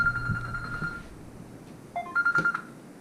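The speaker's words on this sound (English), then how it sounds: "Sorry about my annoying phone" Mobile phone chimes in a kitchen where pork ribs are cooking: a sustained electronic tone, then a short run of quick beeping pulses, fairly soft against a quiet room.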